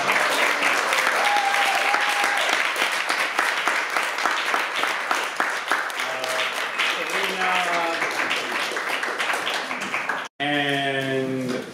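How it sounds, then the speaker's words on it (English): Audience clapping at an exhibition event, a long, steady round of applause with some cheering and a few voices mixed in, briefly cut near the end before resuming. "I would love if we could all clap for Shona, Lily, Beatrice, Eva"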